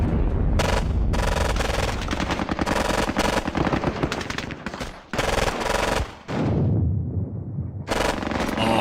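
Gunfire from the Squad Battles Eagles Strike war game, loud rattling bursts of automatic fire stacked with single shots, broken by two short gaps and ending in a booming tail.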